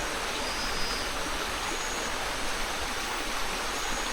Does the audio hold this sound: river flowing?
yes